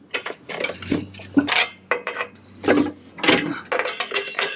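Bolts and washers clink and rattle in a series of short metallic handling sounds during the installation of a Torklift GlowStep on an RV, close and irregular with brief pauses between them.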